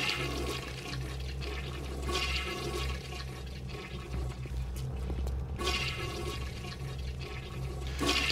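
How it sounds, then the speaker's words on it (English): A toilet flushes in the video game BioShock Remastered, a steady loud rush of gurgling water that swirls on for several seconds, surges again near the end and is heard alone without speech. "You can't flush a toilet that quickly after you flush it once."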